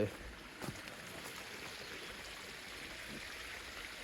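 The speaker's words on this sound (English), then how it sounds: "That's the stream." A stream flowing past farmland being cleared for planting cabbage, a steady broadband rush of water holding constant throughout at moderate distance, with no talk.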